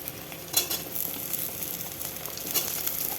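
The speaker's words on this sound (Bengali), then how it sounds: "যতক্ষণ অবধি কালারটা চেঞ্জ না হয় ততক্ষণ ভাজতেই থাকবো।" Spices and cut potato for a chapila fish curry fry in a pan with a close, steady sizzle. A few louder stirring scrapes and utensil clinks break through it. No one speaks.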